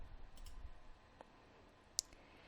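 A single faint computer mouse click lands sharply near the end, isolated in quiet room tone.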